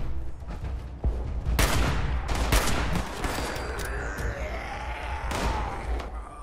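Bursts of rapid gunfire crackle in quick volleys over a continuous background rumble, with a few sharp single shots and some distant booms, in the video game Fallout 76.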